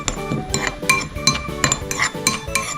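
Chopped onions and hand-broken coriander being mixed in a bowl for a charcoal bubble waffle cheese dosa, giving a steady run of clinking, scraping utensil strokes against the bowl, close and fairly loud, with no talking.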